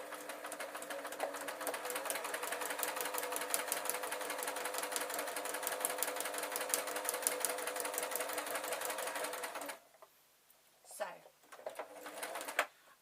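Sewing machine running steadily as it stitches a fabric bookmark, a fast continuous mechanical whirr for about ten seconds, then stopping, followed by a couple of short bursts of reverse stitching.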